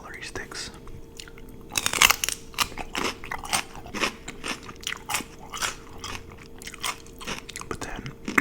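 A celery stick is bitten into and chewed, giving sharp crunchy bites followed by a run of close, wet crunching chews, with soft speech mixed in.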